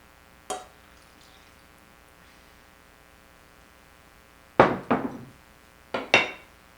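Drained potatoes being mixed with butter and milk in a pot for shepherd's pie: a few sharp, close clanks of a utensil against the pot, one early and a cluster near the end, with quiet in between.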